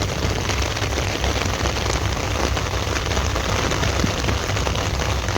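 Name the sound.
heavy rain falling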